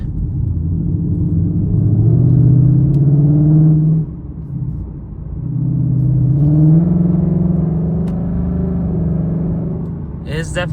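A Ford Mustang with a Corsa Extreme exhaust in track mode revs up close by, giving two loud, deep, swelling rumbles with a brief dip between them.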